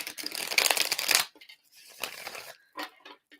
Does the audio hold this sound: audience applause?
no